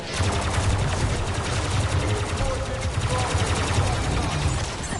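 Sustained automatic gunfire in a video game, a dense, rapid stream of loud close shots rattling without pause across the whole stretch, with people talking faintly underneath.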